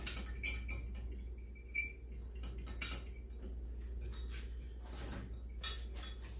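A utensil stirs a cornstarch and water slurry in a small container, producing irregular light clinks and taps against the sides over a low steady hum, quiet and close, with no talking.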